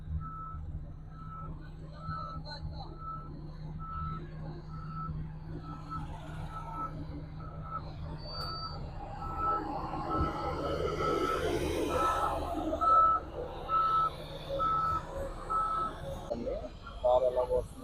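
Road construction machines work on a new road in Amaravati with a truck's reversing beeper pulsing steadily throughout, over a low engine rumble and passing traffic. Someone talks over the scene.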